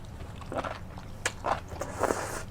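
Enoki mushrooms doused in mala sauce crunch between the teeth in three or four soft, close bites, quiet and spaced about half a second apart.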